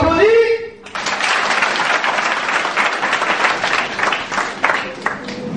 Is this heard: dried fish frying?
no